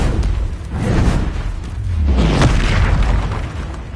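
Confringo spell blasts in Hogwarts Legacy, two deep booming explosions about a second apart, loud and rumbling, with a low whooshing tail.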